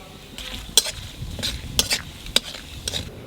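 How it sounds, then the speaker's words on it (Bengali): Whole cumin, bay leaf, clove, cinnamon and cardamom sizzle in hot oil for a Bengali jackfruit and prawn curry, giving a close, steady hiss broken by a few sharp metallic clicks of stirring. "তেলের উপর দিয়ে দেবো জিরে, তেজপাতা, লং, দারচিনি, এলাচ।"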